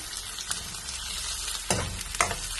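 Capsicum and green chillies fry in hot oil with onion for chilli fish, a constant close sizzle punctuated by a few sharp stirring scrapes in the pan, with no one speaking.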